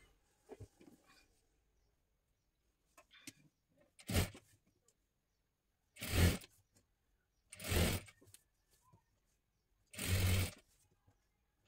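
A sewing machine stitching a katori blouse runs in four short, loud bursts spaced about two seconds apart, with quiet pauses and faint handling noises between runs.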